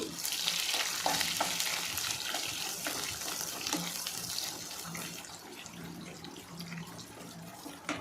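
Finely chopped onion fries in a pan for an Udupi hotel-style potato palya. A steady, close sizzle runs throughout, with scattered scraping taps from stirring and no clear talk.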